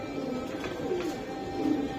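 Racing pigeons of a top club homing breed coo softly and continuously, several low murmuring calls overlapping at close range in a steady loft ambience, with no voices.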